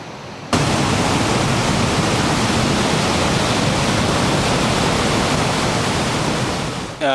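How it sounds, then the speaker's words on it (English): Victoria Falls on the Zambezi roars as a vast curtain of water plunges after the rainy season, a loud, steady broadband rush that starts abruptly and holds unbroken. "after the rainy season is the greatest curtain of falling water in the world"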